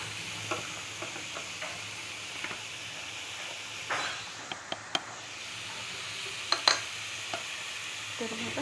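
Ginger and garlic frying in a pan while being stirred, a soft steady sizzle broken by faint scraping clicks of a spoon, fairly quiet and close, with no talking.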